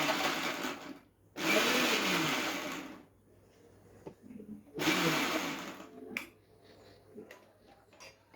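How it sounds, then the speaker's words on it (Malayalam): Ginger and garlic are crushed for a clam meat roast, two loud grinding bursts from a small mixer or crusher, each lasting over a second, separated by quiet with faint kitchen clatter. "ഇഞ്ചിയും വെളുത്തുള്ളിയും കൂടെ ചതയ്ക്കാം."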